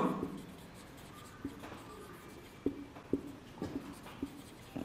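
Pen or marker writing on a board during a chemistry lesson, a scratchy steady stroke with several sharp taps as it meets the surface, close and fairly quiet, with no talk.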